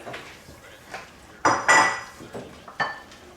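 Frozen shrimp dropped and stirred into a pot of fish soup, a series of close clinks and scrapes of utensil against pot, with a few louder clattering knocks spaced unevenly.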